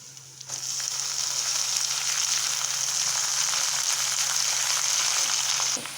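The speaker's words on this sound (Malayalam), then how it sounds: "ഉള്ളി മുളക് മൂത്തിട്ടുണ്ട് നമുക്കിനി മുരിങ്ങയില ഇട്ട് കൊടുക്കാം" Drumstick leaves drop into a pan of fried onion, chilli and curry leaves, setting off a loud, steady sizzle that holds evenly before easing off at the end.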